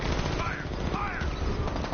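Rapid automatic gunfire during a Batman Arkham Knight vehicle chase, bursts crackling in quick succession over a constant low engine rumble and game sound, with no voices over it.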